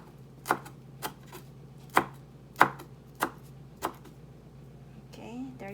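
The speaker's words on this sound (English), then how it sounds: "So now I can just do the chopping." Fresh coriander chopped with a knife on a board, about six crisp, evenly spaced chops in a slow rhythm, close and clear in a quiet kitchen, followed by a brief voice at the end.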